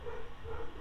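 A pet dog, an American Bulldog cross, giving a couple of short, muffled barks a little way off during a quiet indoor moment.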